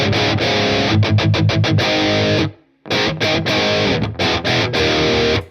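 Heavily distorted electric guitar plays chugging metal riffs with tight palm-muted stops and a brief silence, full and slightly roomy.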